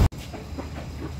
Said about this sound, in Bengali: চট্টগ্রাম মেলটি ছাড়লো রাজধানীর কমলাপুর রেলওয়ে স্টেশন।